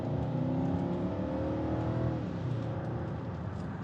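BMW X6 engine revving while driving, a continuous loud engine drone inside the car, rising in pitch toward about 3,500 RPM and then easing slightly.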